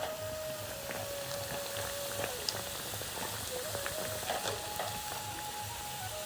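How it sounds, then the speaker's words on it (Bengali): Raw potato snack pieces deep frying in hot oil, a steady close sizzle running throughout while the pieces are turned, with a faint tonal hum beneath. "দেখুন আমি এভাবে উল্টে পাল্টে সব দিক থেকে সুন্দর করে ভেজে নিচ্ছি"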